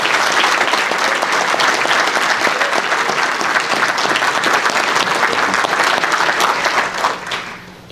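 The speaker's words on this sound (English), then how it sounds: "How about a round of applause for our family?" A crowd at an awards ceremony claps loudly and continuously, the applause tapering off at the very end.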